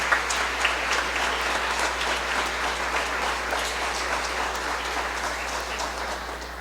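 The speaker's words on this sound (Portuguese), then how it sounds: "Vamos aplaudir ao Senhor." A church congregation applauds in worship, a steady, crowded patter of clapping that holds evenly throughout over a low constant hum.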